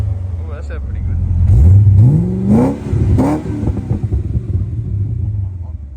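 Holden VT Clubsport with a 5-litre V8 being revved from idle, two rising blips climbing sharply in pitch before dropping back to a deep burbling idle, heard close from outside the car.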